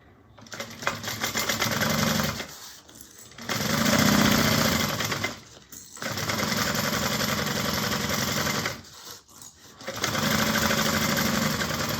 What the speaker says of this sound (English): we're going to sew this on with a 1/4 inch seam allowance